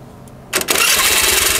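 A racing H4R starter motor on a carbureted Honda Vario scooter whirs briefly, then the engine catches and settles into a steady, close, rapid idle.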